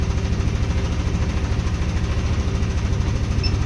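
A car engine idles while warming up after an idle speed control reset and fuel pressure repair, a loud, steady low rumble with an even pulsing throb throughout and no talking.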